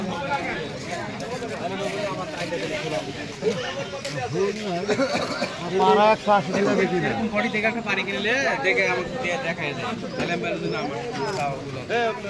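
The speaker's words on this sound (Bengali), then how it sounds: "কবুতরের বাচ্চা অনেক সুন্দর।" Pigeons coo in low, rolling repeated calls at a busy pigeon market in Keshar Hat, Rajshahi, mixed with crowd chatter and a nearby voice talking over them throughout.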